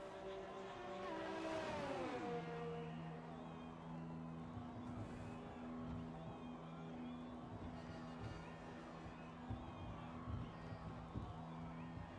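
F1 2020 race car engine in the pits, rising in a quick rev and then settling into a steady whining drone, fairly quiet throughout with some faint talk.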